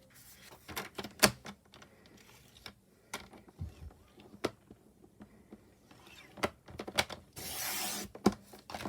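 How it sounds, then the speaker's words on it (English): Cardstock for a Stampin' Up tag bag is cut in half in a quiet craft setting: sparse sharp clicks and snips, ending in a brief soft swishing slide of paper. "So I'm just going to cut these two in half."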